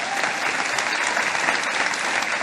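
A Baptist church congregation in Brazil bursts into loud, continuous applause, a dense wash of many hands clapping together that fills the whole stretch.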